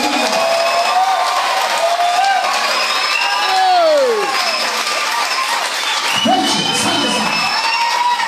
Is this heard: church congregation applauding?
yes